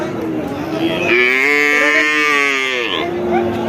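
A desi-breed dairy cow lets out one long, loud moo lasting about two seconds at a cattle market, preceded and followed by faint background voices.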